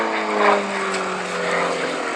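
Very quiet little single-engine propeller aeroplane with an elliptical, Spitfire-like wing flying a display at an airshow, a steady droning engine hum with whining propeller tone, continuous and moderately close.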